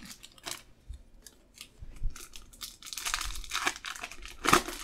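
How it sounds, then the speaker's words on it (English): 2015 Topps Chrome football card packs are torn open by hand, with sharp foil-wrapper rips and crisp crinkling in uneven bursts, heard up close and alone. "I'm just going to open up all these packs and then go through the cards"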